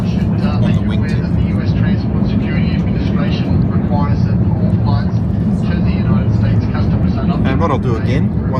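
Steady, loud cabin roar of an airliner climbing toward cruise altitude, a constant low drone filling the whole stretch with no letup, and a voice faintly present beneath it.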